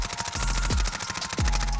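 Sustained rapid-fire SMG bursts in a video game, fired with no recoil control: a dense, loud, continuous stream of shots with no pauses, and a couple of brief low thuds within the stream.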